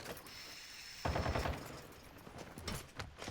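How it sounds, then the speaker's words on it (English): An AI player's gun fires at a sentry gun in a video game: a sudden, fairly faint burst of rapid shots breaks in after a quiet stretch, then fades into scattered mechanical clatter. "AI was shooting the sentry gun"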